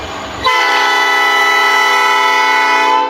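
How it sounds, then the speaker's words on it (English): A loud, steady train horn blares close by for nearly three seconds after a brief rumble, heard in South suburban Dalton, Illinois. "Usually the trains are the loudest noise"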